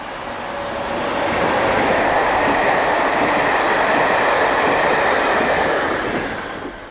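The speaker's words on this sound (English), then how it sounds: "We're now into the final months of Class 73 haulage of the Gatwick Express." A British Rail Class 73 locomotive hauls a Gatwick Express train past, a steady loud roar of engine and rolling wheels that swells in, holds for several seconds, then begins to fade, with no voices.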